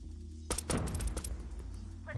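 A rapid burst of gunfire in COD Mobile, with sharp cracking shots close together over about a second. The shots rise over a steady musical drone and trail off at the end.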